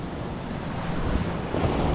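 Ocean waves wash and rumble continuously while strong wind buffets the microphone, a loud, steady roar with no voices.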